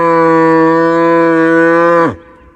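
Cow giving a single long, deep, steady moo lasting about two seconds, close and loud, ending abruptly with no other sound.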